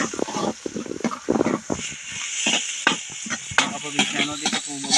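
Onion frying in a pan for chicken kaldereta, with a busy sizzle and crackle and the spatula scraping and stirring close by, under a steady hiss, while a voice talks over parts of it.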